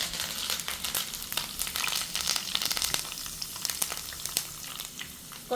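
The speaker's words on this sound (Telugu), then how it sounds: "ఒక 10 వరకు ఎండుమిర్చి వేసుకుంటున్నాను. ఇది కొంచెం ఫ్రై చేసుకున్నాం." Dried red chilies and curry leaves frying in hot oil give a steady, close crackling sizzle with dense popping, running the whole time with no talking.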